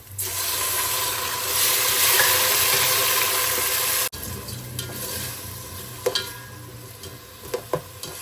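Chopped tomatoes go into a pan of golden fried onions for chicken pulao, a loud close sizzle that drops sharply partway through to a quieter simmering hiss with occasional stirring clinks, and no voices.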